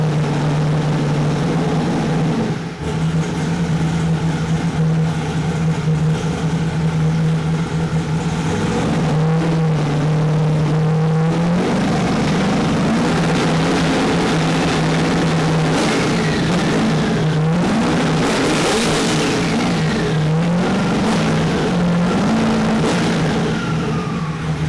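Car engine on a dyno during a tuning pull, with a steady tone that steps up and wavers as revs climb, loud and close, drowned in broadband roar from midway on.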